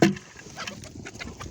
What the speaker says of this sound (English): Oh no, the chickens think it's for them. They heard the bucket and they're all excited.